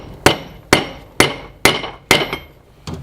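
A hammer strikes hot metal on an anvil while tapering the tip of a piece being forged from an old 2 lb sledge hammer: six sharp, ringing blows at a steady rhythm, close and loud, with no talking.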